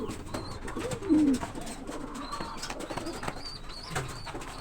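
Pigeons kept in a loft, including an off-color grizzle bird, coo softly in a low, intermittent murmur, with a faint high chirp now and then over steady background noise.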